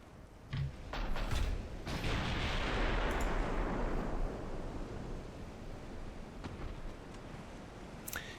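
18-inch naval guns fire in the Ultimate Admiral: Dreadnoughts battleship game, a deep booming blast followed by a long rolling rumble that slowly fades, with sharper distant reports near the end.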